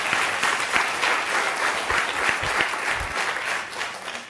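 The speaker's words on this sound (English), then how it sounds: "So let's just clap for them first" Audience applause at the close of an afternoon panel session, a steady wash of many hands clapping together throughout, fairly close and full, with no talking over it.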